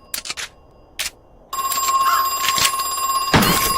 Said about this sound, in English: We're not going to answer that phone.